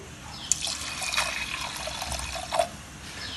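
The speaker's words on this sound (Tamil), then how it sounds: "பருப்பு முழுகிற அளவு வந்து இப்போ நான் தண்ணி சேர்த்துக்கிறேன்" Water is poured over rinsed black urad dal in a pot, a steady soft splashing and trickling with a couple of brief clinks, close and moderately quiet, with no talk.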